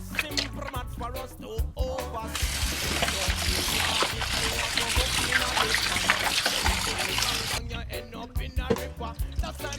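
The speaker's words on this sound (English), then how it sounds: "I'm going to wash it off, rinse it off now with some fresh water" Fresh water runs and splashes over chunks of stew beef being rinsed, a steady close trickle and splatter holding through the middle with clattering handling noises at the start and end.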